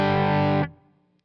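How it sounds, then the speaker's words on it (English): An electric guitar chord rings through an Archer pedal set for overdrive, a thick, saturated sustained tone held for just over half a second before cutting off and fading to a faint tail. "So I've got this little Archer pedal that I really dig, set for overdrive."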